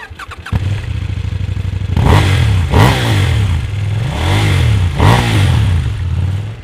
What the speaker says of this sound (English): Introducing the 2018 KTM 790 Duke.